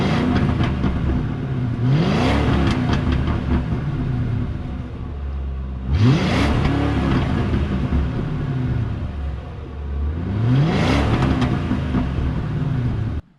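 A Ford Crown Victoria P71 Police Interceptor engine revs up hard three times in a row, each rise in a loud, close rumbling roar settling back to a throaty idle, with no one speaking.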